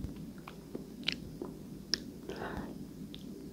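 Soft, close chewing of Korean spicy marinated crab (yangnyeom gejang), with small wet squishes and clicks spread across a few seconds under a quiet, low background murmur.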